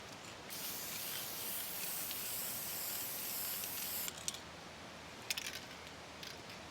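Aerosol spray can laying clear coat on a guitar body, a continuous close hiss for about four seconds, then short spray bursts and small handling clicks.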